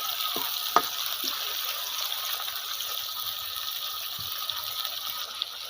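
Chicken handi with green chili paste cooking in a pan, a steady, close hiss of frying with a few soft clinks and stirring knocks, no voices.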